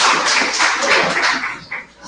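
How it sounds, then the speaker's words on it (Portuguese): A crowd at a public hearing at the IFSP Cubatão campus breaks into applause, a dense, steady patter of many hands clapping that holds for about two seconds before easing slightly. "Uma salva de palmas para"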